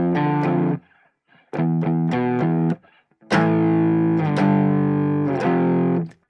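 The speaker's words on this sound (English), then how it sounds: "double up exactly the same guitar part, but using the Gretsch with the Antiquity P90s with the same high amp" Heavily distorted Gretsch electric guitar with Antiquity P90 pickups through a high-watt tube amp, playing chunky chords in bursts with short gaps, loud and close, then a longer sustained passage.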